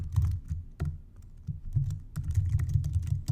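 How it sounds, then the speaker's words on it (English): Typing a website title on a computer keyboard, with bursts of close, clattering keystrokes separated by short pauses, loud and clear with no talking. "I'm going to type in folk style wrestling moves"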